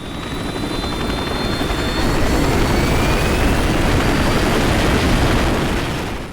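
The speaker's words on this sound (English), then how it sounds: "Eventually the message gets through and the Chinook pulls away." A Chinook helicopter in a war film throbs loudly as it lifts and pulls away, its dense rotor chop swelling and then holding steady before tapering slightly at the end.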